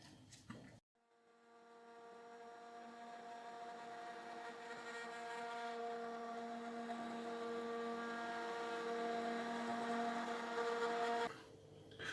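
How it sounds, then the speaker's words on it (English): A stick blender purees softened carrot and lentil soup in a pot, a steady motor whir that runs continuously for about ten seconds before cutting off, with no talk. "So now we can just use a stick blender to make a soup."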